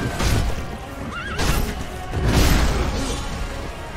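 A horse in the video game Sekiro: Shadows Die Twice gives loud, close whinnies in two drawn-out bursts, with faint hoof clatter underneath.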